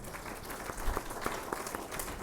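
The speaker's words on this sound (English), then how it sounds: "So please give a big round of applause to Professor Menon" Conference audience applauding for Professor Menon at a national conference on diversity in management, a moderately quiet, scattered patter of clapping hands with a few sharper individual claps standing out.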